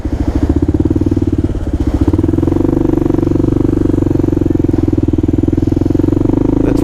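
A Kawasaki KLR dual-sport motorcycle's single-cylinder engine thumps steadily and loudly up close while lane splitting through traffic, a rapid even pulse that holds throughout with a slight rise in pitch partway.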